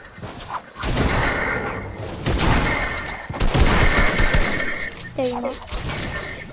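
Gunfire fills a shooting video game: dense, loud volleys of shots that run in bursts with short pauses, over a steady game background.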